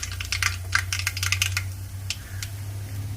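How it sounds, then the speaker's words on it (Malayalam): Mustard seeds crackle and pop in hot oil while being fried for a mackerel (ayala) fish curry, giving a quick scatter of sharp, light clicks over a low steady hum, close by and moderately loud. "കടുക് പൊട്ടി തുടങ്ങി."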